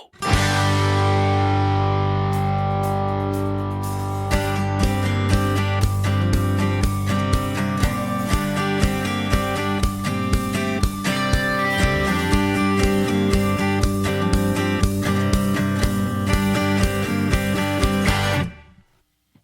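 A song playing as a recorded track, a loud, dense rock arrangement with distorted guitars and a steady drum pulse that kicks in after a short intro and runs continuously before cutting off abruptly.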